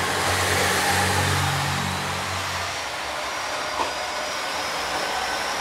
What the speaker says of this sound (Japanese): このディーゼルエンジンの音がいいですね